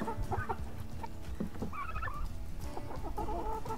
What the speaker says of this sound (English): chickens, you know how curious your birds are